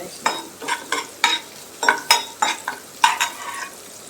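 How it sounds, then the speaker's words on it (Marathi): Finely chopped garlic and two green chilies frying in oil, heard as a regular series of short scraping stir strokes over a light, close sizzle. "त्यो मातश्यो तेला बरोबर तळसून घेता"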